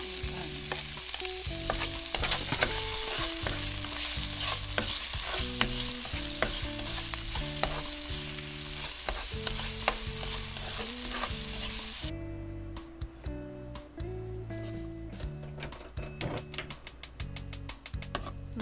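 Onions sizzle and fry in a pan, a steady crackling hiss with occasional stirring clanks, loud at first then quieter and more broken.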